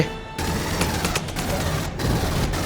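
Enemy gunfire in the Aliens: Colonial Marines video game rattles in dense, continuous automatic bursts with booming impacts, loud and sustained across the moment.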